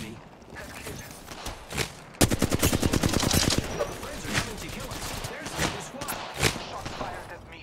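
Shotgun blasts ring out in a fast run of booming shots during a bout in the video game Apex Legends, surrounded by other heavy weapon fire, loud and near, with no voices heard over the shooting.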